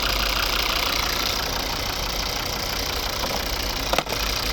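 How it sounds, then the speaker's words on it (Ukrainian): A 2012 Volvo V50 2.0 D3 five-cylinder diesel with automatic transmission idles in a steady, even rumble close by, with a brief knock near the end and no talking. "Тут робота двигуна."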